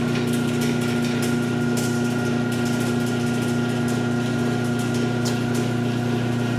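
A garage door opener runs after its rail has been greased, giving a steady motor hum with a fixed tone and a faint rattle of the chain. The sound holds at an even level throughout and no one speaks.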